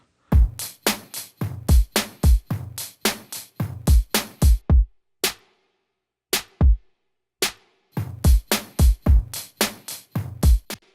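A lo-fi drum loop layered with a programmed kick and crispy snare and deep kick plays in a steady groove, loud and close, with a brief break of sparse hits in the middle before the full beat returns.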